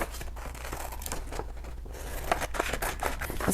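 Scissors cut out a paper math problem at close range, giving a series of crisp snips and rustling paper crinkles over a steady background, with no talking.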